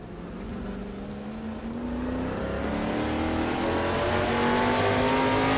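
A 1971 Mercury Cyclone race car in a racing video game accelerates, its engine note climbing steadily through the gears and getting louder, with a bit of tire noise and no talk.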